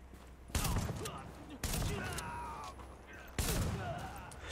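Shotgun fire in Tom Clancy's The Division, three sharp, loud blasts spaced about a second apart, each followed by a lingering ringing tail of in-game sound.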